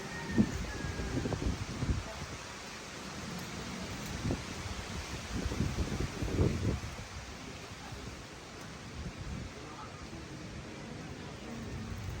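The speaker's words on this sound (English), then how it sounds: "Oh, it's so windy." Steady wind buffets and rumbles outdoors in Moonwalk, Parañaque, Philippines, with gusty low thumps and a broad rushing hiss, no clear voices.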